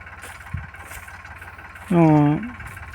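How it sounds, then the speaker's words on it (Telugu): A tractor runs while spraying pesticide over a pigeon pea field in a village, its low, steady chugging pulsing throughout at close range, with a brief tonal, horn-like sound near the end. "ట్రాక్టర్ సహాయంతో మనము మందైతే స్ప్రే చేస్తూ ఉన్నాము."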